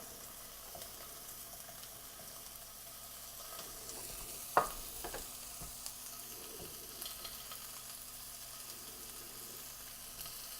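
Beef for fajita wraps cooking over medium heat in a pan, a soft steady sizzle with one brief clatter near the middle, fairly faint and without talk.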